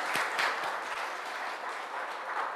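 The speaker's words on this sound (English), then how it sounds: "Can we give a big applause to them?" Audience applause after a children's dance performance at a Reformation Day celebration, a steady wash of clapping filling the hall with a few sharper claps early on, fairly quiet and without voices.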